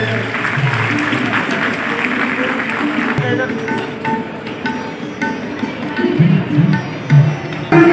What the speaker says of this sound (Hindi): इनकी इसके कार्य के लिए इन्हें जोरदार ताली देते हैं।